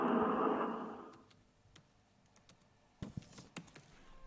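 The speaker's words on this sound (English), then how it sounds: "This is the sound of Aaron writing on the George Clooney fan forum." Quiet, scattered clicks of typing on a computer keyboard, a few sparse keystrokes followed by a quick cluster of taps, close and faint with no voices.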